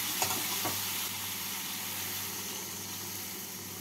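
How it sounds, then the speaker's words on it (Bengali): Steady sizzle of spice paste frying with potatoes in a pan after water is added, a couple of faint stirring knocks at the start, then a continuous hiss, quiet and close with no talking. "এবার এর মধ্যে আমি দিয়ে দেবো পরিমাণ মতো জল।"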